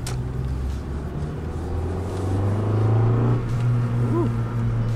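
A car engine hums close and steady as it accelerates, swelling in the middle and easing slightly toward the end, with a brief faint chirp near the close and no clear talk.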